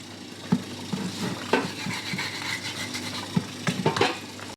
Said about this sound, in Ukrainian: Ну, я ось такий пошкрябаю гарненько.